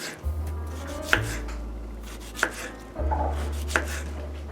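Fresh garden parsley is chopped with a knife on a board, three or four distinct close thuds spaced about a second apart over a faint background hum, no speech.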